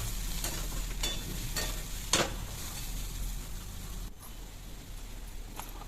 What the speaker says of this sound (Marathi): कांदा चांगला ब्राऊन कलर होईपर्यंत भाजून घ्यायचं सोनेरी.